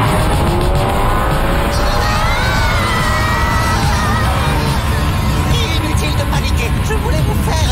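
Cartoon spaceship braking effect, a loud squealing skid with rising and falling screeches over a rumbling roar, continuous and close.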